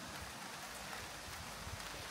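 Rain just beginning to fall around a decaying abandoned resort town building, a steady soft hiss with scattered drops, close and fairly quiet throughout.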